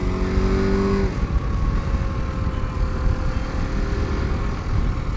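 A Husqvarna 701 adventure motorcycle's engine drones loudly and steadily under acceleration while riding out of turns, with a broad roar and rushing wind and a brief tonal whine at the start.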